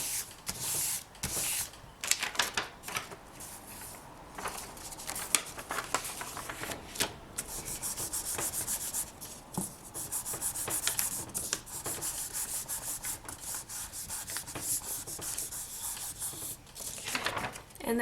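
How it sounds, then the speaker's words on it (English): A flat piece of polymer clay is burnished by hand, giving soft, rapid rubbing and scraping strokes in irregular bursts, close and fairly quiet with no talking. "take this and also burnish it. Just to make sure that it's nice and flat"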